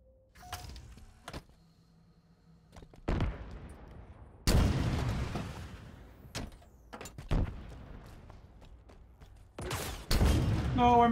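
Rocket launcher fire in Halo Infinite, the shooter: several heavy blasts with rumbling tails land a few seconds apart, and quieter clicks and game noises fill the gaps.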